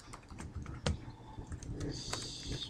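Rapid typing on a computer keyboard while coding, a quick irregular run of close, crisp key clicks with one louder tap and a brief flurry near the end.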